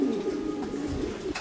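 Racing pigeons perched on a shed cooing, a low rolling coo that carries on steadily and close, alone with no talk.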